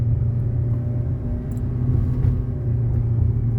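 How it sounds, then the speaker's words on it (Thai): A steady low engine rumble from inside a Mitsubishi Xpander with automatic transmission, engine braking in low gear down a steep hill, droning continuously at moderate revs below 4,000 rpm without pauses. "จะมีเสียงเครื่องนิดนึงนะครับ"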